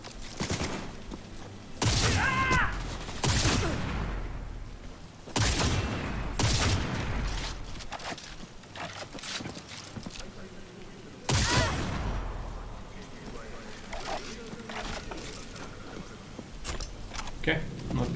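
Rifle gunfire from a ghost rifle in the Cyberpunk video game. Several sharp, loud shots ring out at irregular intervals, spaced a few seconds apart, with mechanical clicks between them and someone talking underneath.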